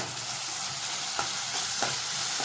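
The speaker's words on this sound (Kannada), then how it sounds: "ನೋಡ್ತಿದ್ದೀರಾ, ಕ್ಲೀನಾಗಿ ಸ್ವಲ್ಪ ಫ್ರೈ ಆಗಬೇಕಿದು" Ginger garlic paste frying in a hot pan, a loud dense sizzle that stays steady throughout, with a few soft stirring scrapes.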